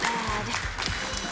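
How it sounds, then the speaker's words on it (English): Audience applause at a Games Done Quick speedrun event for Sonic Racing: CrossWorlds, a steady wash of clapping from a crowd lasting the whole short moment, with faint voices underneath. "I'm happy everyone clapped because that was phenomenal"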